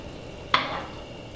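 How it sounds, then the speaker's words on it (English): Beef for Tom Yum soup frying over high heat in a hot pan, with one quick scraping stir that swells into a brief sizzle over a low background hiss, close and without voices. "Okay, give the beef the good mix."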